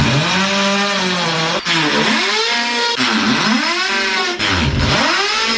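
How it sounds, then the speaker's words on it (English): A loud power drill whines continuously up close, its pitch swooping down and up with each push as it bites into material while drilling pilot holes for a bed frame. "I'm just gonna go through and do these pre-drill holes."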